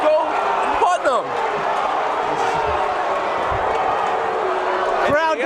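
Basketball crowd in a gym reacting with displeasure, a sustained loud murmur and roar of many voices, while a commentator talks over it near the start and again at the end.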